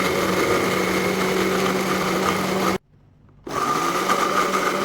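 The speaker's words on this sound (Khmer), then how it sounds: "ឃើញថាយើងកិនគ្រឿងឲ្យមានរំដេងរមៀត" An electric grinder blends a spice paste of turmeric, galangal, garlic and shallots for beef tendon stew, its motor whirring loud and steady, cutting out for a moment, then starting up again.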